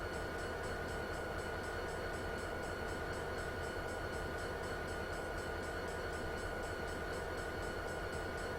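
A New Jersey Transit GP40PH-2B diesel locomotive on the North Jersey Coast Line in Train Simulator 2016 rumbles and clatters steadily, a continuous loud mechanical drone with rail noise and no talking.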